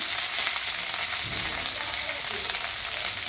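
Dried red chili, green chili, curry leaves and ginger frying in hot oil for a sundal, a loud, steady close-up sizzle with bright crackling spatter throughout.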